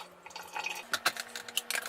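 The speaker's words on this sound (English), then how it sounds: "And then I add water up about slightly over half or half." Water is poured into a blender jar for a spicy green shake, a quiet run of irregular splashing and dripping over a faint low hum, with no talking.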